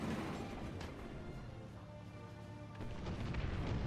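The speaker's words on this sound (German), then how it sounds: "Und da hinten wird schon schwer geschossen." Distant heavy gunfire and artillery rumble through a tank battle in War Thunder ground forces, steady low booms and cracks with one louder thump partway through, and no talking.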